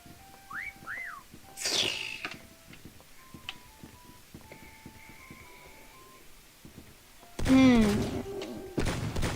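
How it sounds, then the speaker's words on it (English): A short rising whistle in a video game sounds twice, followed by faint tones and ticking, then a burst of louder noise near the end. "Let's wait for the whistle."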